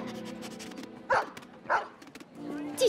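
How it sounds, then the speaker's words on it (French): A cartoon dog in an animated Playmobil Novelmore story gives a few short barks and yips between quiet stretches, heard close alongside light background sound. "Daisy, sois un bon toutou et va chercher ma cape"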